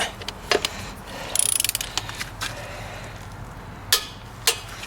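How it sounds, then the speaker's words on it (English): A ratchet wrench clicks in a quick rapid run while torquing the lug nuts on a Jeep wheel, set among scattered metallic clanks and knocks outdoors. "we're just going to put the torque to her a bit, like that"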